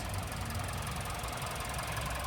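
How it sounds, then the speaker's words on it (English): A 2024 Mitsubishi Outlander engine idles steadily with a dense, continuous rumble and faint ticking, running evenly throughout without any voices. "this is how it sounds"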